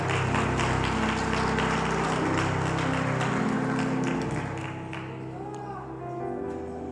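A church congregation applauding during a sermon, a dense wash of clapping that fades toward the end as sustained tones continue underneath.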